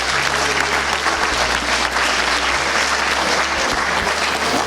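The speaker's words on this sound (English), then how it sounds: "So big round of applause for your teachers today." An audience gives teachers a big round of applause at a 2021 school award ceremony, with dense, continuous clapping filling the room at a steady loud level and a low hum underneath.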